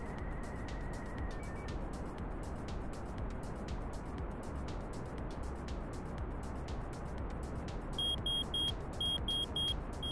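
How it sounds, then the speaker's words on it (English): Repeated electronic low-charge warning beeps from Kerbal Space Program, a quick series of short, high pulses near the end over a constant low rumble, with an earlier brief tone. "That is our low charge warning."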